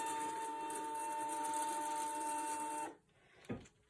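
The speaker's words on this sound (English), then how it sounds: "And as you can see, it's printing out." A printer prints out copies with a steady whirring hum that cuts off abruptly near the end, followed by a single soft clunk and quiet.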